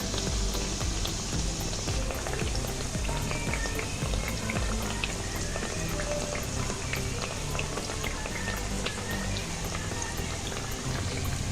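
Nimki fry in oil over low-medium heat, giving a dense, even crackle like rain on a surface that runs unbroken and close the whole time, with no talking.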